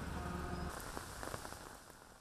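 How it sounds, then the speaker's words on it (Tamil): Light drizzling rain falls in a steady, soft patter of fine drops, quiet and even throughout, with no voices. "சுமார் 7 மணியளவில் பெய்யத் தொடங்கிய சாரல் மழை பல மணி நேரம் நீடித்தது"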